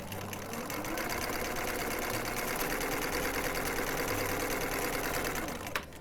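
A sewing machine runs continuously, stitching a wide zigzag on knit fabric with a fast, even mechanical whir and rattle, close and steady throughout with no talk.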